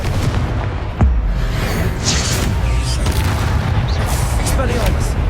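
A Confringo blasting spell goes off in Hogwarts Legacy with one heavy, close boom, followed by a steady rumbling roar and crackle under a voice.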